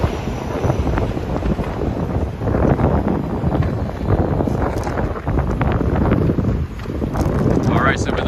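Strong wind buffeting the microphone in a steady roaring rush during a rush-hour street walk in Harlem, New York City, loud and close, with a person talking underneath.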